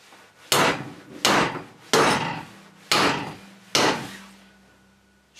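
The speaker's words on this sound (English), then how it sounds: "That's just letting the weight of the hammer fall" Five heavy, evenly spaced blows of an antique hammer driving a nail into wood, each a sharp thud with a short ringing decay, close and loud with quiet gaps between.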